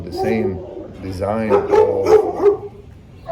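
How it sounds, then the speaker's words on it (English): Dogs barking in a building, a few sharp yips and barks close by, mixed with someone talking over them. "Sorry about the dogs."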